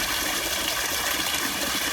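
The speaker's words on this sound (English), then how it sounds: "A little mini waterfall just to see the day out." Steady rushing water pours continuously, a close, full splashing hiss from a small waterfall on the River Tees, tumbling over rocks.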